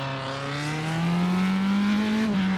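Formula 3 race car engine in a racing video game, a loud steady tone rising in pitch as it accelerates through one gear, with a brief dip near the end, heard alone.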